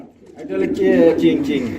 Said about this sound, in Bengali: দুই হাজার টাকার মধ্যে পেয়ে যাবেন রেড কালারের মধ্যে সিরাজি কবুতর বিগ সাইজের জোড়াটা